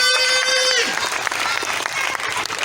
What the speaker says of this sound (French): Qu'est-ce qu'on fait? On applaudit!